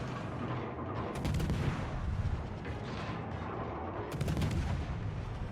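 Destroyer guns fire in World of Warships aboard the Gearing, booming salvos over game ambience, one burst near the start and another near the end.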